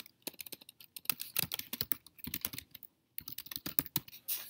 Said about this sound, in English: And then whenever I type in something,